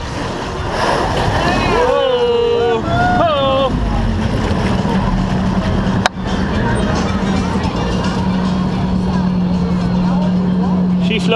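An amphibious Ride the Ducks tour vehicle floating on water in Seattle gives a loud, steady engine drone and water rush with wind, while people talk and call out excitedly early on and a sharp click lands partway through.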